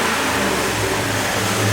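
Car engine fitted with a K&N cold air intake and a loud exhaust revs close and loud, a continuous throaty growl with no voices over it.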